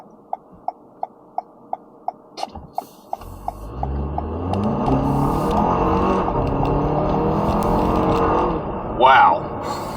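A 2023 Toyota Kluger GXL AWD with the 2.4 litre turbo petrol engine, in sport mode, accelerates hard after a run of ticking indicator clicks, its engine rising in pitch through the gears, close and steady, with a voice briefly exclaiming near the end.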